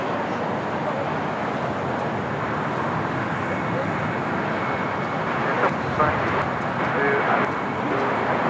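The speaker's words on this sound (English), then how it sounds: "it's Korean Air A380 Super getting ready for takeoff on 25 left" Korean Air A380 jet at LAX readying for takeoff on runway 25 left, a steady broadband jet roar heard from a distance, with faint voices talking over it.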